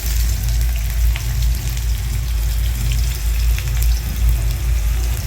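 Chopped onion frying in hot oil for a green chilli chicken sukka, a loud, dense, continuous sizzle close up with no talking.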